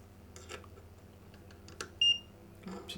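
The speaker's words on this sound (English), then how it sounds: "I don't like the way this multimeter beeps every time you touch something" A multimeter gives one short, sharp electronic beep as its probes touch a connection during restoration of a Philips 138 Mistral four-valve tube radio, heard over a low steady hum and faint handling clicks.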